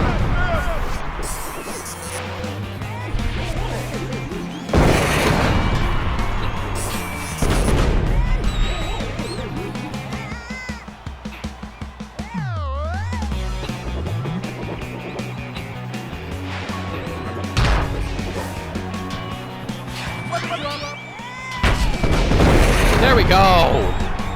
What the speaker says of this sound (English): Oh, they have like a little explosion.